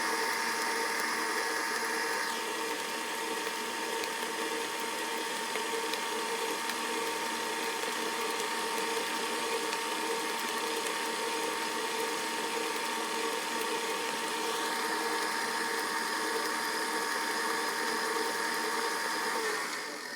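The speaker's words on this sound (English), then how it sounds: "Turn my mixer off now, and as you can see, some of the butter and sugar mixture is kind of staying on the sides" An electric stand mixer at raised speed beats a butter and sugar mixture for a rum cake, giving a steady, loud, continuous mechanical whir with a faint rhythmic rattle that runs unbroken throughout.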